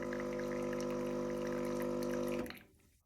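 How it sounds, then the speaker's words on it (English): GaggiMate-equipped espresso machine running a pre-brew flush, a steady pump hum with water rushing through the group head that cuts off abruptly near the end, leaving near silence. "We'll do a little flush beforehand to clean everything."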